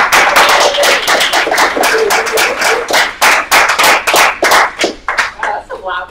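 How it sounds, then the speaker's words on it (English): A student government senate meeting audience bursts into loud, rapid clapping: a dense volley of sharp claps that thins out toward the end. "That's some loud clapping."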